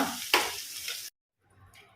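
Masala stirred in a hot pan with half a spoon of turmeric sizzles and scrapes loudly and close, with a sharp clatter early on, before cutting off abruptly to near silence and a faint return of sizzle.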